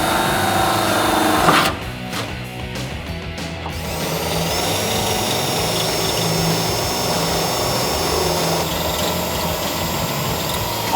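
A power drill with an 11/32 bit bores holes through a Jeep Wrangler JK fender, a loud, steady whining drone with a brief stuttering burst early on, then continuous grinding close up.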